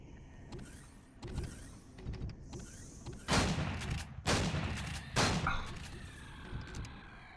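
Gunshots in the space survival game Empyrion - Galactic Survival, a few loud separated blasts with short noisy decays spaced about a second apart, over a low ambient hum and scattered mechanical clicks.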